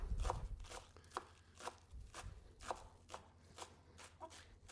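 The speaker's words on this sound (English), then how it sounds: "I've got some leftover green onions here that we are going to chop up" Knife chopping green onions on a board, with steady evenly spaced crisp taps close up, moderately quiet.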